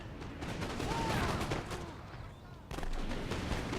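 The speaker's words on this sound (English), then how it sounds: "And they're being shot with canister shot by the artillery." Artillery in Napoleon: Total War at the Battle of Waterloo fires canister shot, heard as dense, continuous rumbling gunfire and volleys with a renewed burst toward the end.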